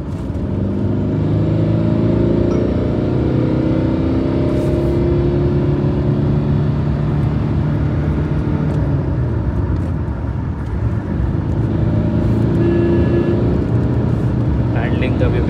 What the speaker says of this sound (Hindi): ये अभी नेक्सॉन चल रही है थर्ड गियर में स्पोर्ट्स मोड